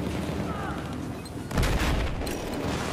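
Loud shotgun blasts and dense gunfire from a multiplayer shooter game, a sustained barrage with a sharper burst about halfway through, bursts overlapping one another continuously.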